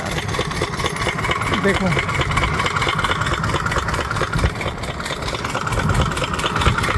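Borewell drilling machine engine running steadily in a farm field, a constant low, rumbling drone close by with a faint mechanical rattle, with someone talking briefly over it.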